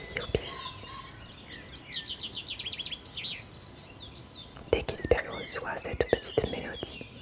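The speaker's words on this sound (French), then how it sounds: "On croit à un chant d'oiseau." Bright, rapid bird song with high whistled trills fills the air, followed by soft whispering and a few sharp clicks nearby.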